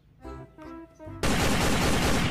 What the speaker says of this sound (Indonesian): Wah, ini ada tembakan, teman-teman.